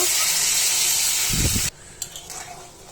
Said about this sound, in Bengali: এখন পরিমাপ মতো পানি দিয়ে দেব।